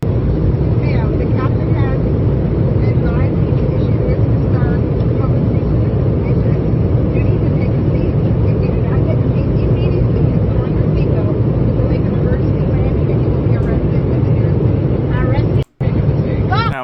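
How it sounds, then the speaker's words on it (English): Steady, loud airplane noise, a continuous broad roar that runs unbroken for the whole stretch, with one brief dropout near the end. "That one's really hard to hear because of the plane noises."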